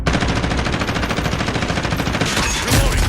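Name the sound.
gunfire in a shooter video game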